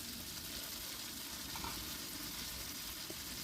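Taro, potato and eggplant pieces frying in hot oil with tomato, a continuous low sizzle with faint crackles, fairly quiet and steady, no speech.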